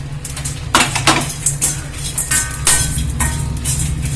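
Dried gooseberry, pepper and cumin dry-roasting in a pan on a low flame, with repeated clinks and scrapes of a metal spoon against the pan, sharp and close over a low steady hum.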